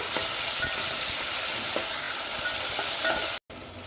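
A cup of chopped tomato fries in hot oil in a pan for upma, giving a loud, steady close sizzle with occasional stirring scrapes, broken by a brief silent dropout near the end.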